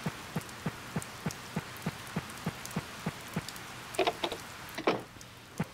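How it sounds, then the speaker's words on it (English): Rain falls in the farming game Harvest Moon: Save the Homeland as a soft hiss with a steady, evenly spaced patter of drops and a brief thicker splash near the end, with no voices. "Yeah, it's actually raining."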